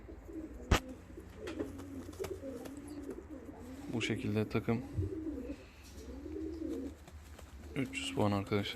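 Fancy and costume pigeons coo softly in low, rolling phrases, with a sharp knock early on, while someone talks over the birds throughout.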